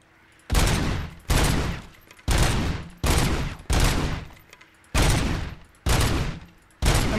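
Gunshots ring out at a shooting calibration range in the RoboCop Rogue City video game, with eight loud heavy blasts at roughly regular intervals, each with a short reverberant tail.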